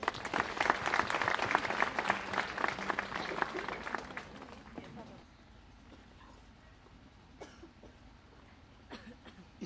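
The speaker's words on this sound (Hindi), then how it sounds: "आइए हम सब मिलकर उनका अभिनंदन करते हुए एक बार जोरदार तालियां बजा दें।" Congregation at a Christmas church service bursts into loud, dense applause for about five seconds, then it fades to a quieter room with scattered claps, a few coughs and murmuring voices.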